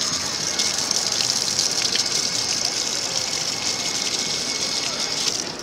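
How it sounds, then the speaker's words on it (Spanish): Water gushing from a public drinking fountain at Plaza Cataluña, a loud, steady, close splashing hiss that continues unbroken throughout. "vemos acá una fuente de agua"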